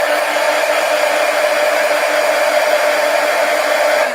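A hair dryer blows steadily and loudly at close range, drying wet marker ink on paper, a constant broadband whoosh with no talk.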